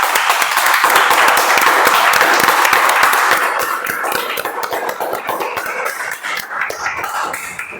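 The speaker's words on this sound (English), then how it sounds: "Let's have a big round of applause for that." A Toastmasters club meeting audience gives a round of applause, a dense burst of close clapping that slowly thins and fades out, with a cough and some shuffling toward the end.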